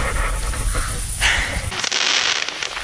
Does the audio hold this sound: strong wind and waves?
no